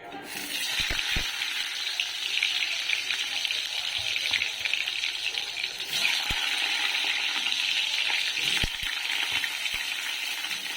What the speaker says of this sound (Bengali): এখন হচ্ছে পটলগুলোকে আগে একটু ভেজে নেব